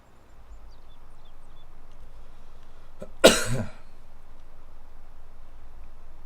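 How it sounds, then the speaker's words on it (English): A single short, sharp cough erupts midway through near-silence, close to the microphone, with a faint low hum underneath. "Of course, I'm coughing more again"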